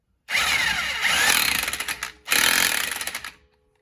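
Power tool, likely an impact wrench, driving a lug nut on a 2013 Dodge Avenger during a tire rotation: two loud, close whirring bursts with rattling pulses, separated by a brief pause, then silence.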